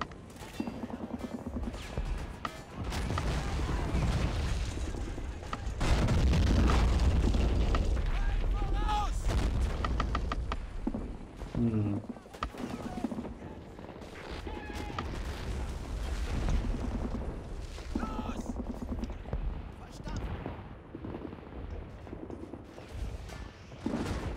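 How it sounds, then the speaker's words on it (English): Panzerwerfer rocket artillery firing in the online war game Men of War during a Germany versus USA battle, repeated heavy booms and whooshing launches amid explosions and gunfire, loud and dense, with someone talking over it. "Walking with a Panzer Werfer right there in front of my infantry"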